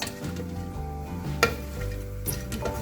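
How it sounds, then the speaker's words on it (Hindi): Whole garam masala spices frying in oil in a pan for khichri pulao, a soft steady sizzle with a spoon scraping and stirring, and a couple of sharp metallic clinks against the pan. "और अब साथ में ऐड कर रही हूँ मैं साबित गरम मसाला भी। इसे थोड़ा सा फ्राई करेंगे"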